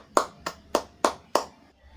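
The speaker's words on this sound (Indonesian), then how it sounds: "Tepuk tangan dulu untuk Usman." A classroom of sixth-grade pupils claps for a classmate named Usman after he reads his work aloud: five distinct, evenly spaced claps in unison, sharp and close, then quiet.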